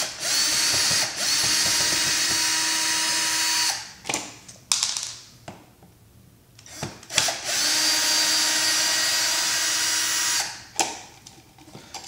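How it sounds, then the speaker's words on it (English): A cordless screw gun whirs in two sustained bursts of about four seconds each while backing out screws from a Leviton USB wall outlet, separated by short clicks and handling sounds. "we'll just use a screw gun here"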